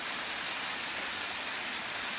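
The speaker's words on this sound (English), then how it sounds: "another beautiful waterfall" A forest-trail waterfall pours in a steady, close broadband rush of falling water that fills the whole stretch without pause.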